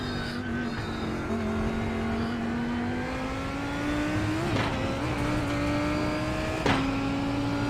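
Race car engine in the iRacing sim game, heard steadily from a chase camera, a continuous revving drone that climbs in pitch through the gears, with two sharp exhaust pops and gear-change dips near the end.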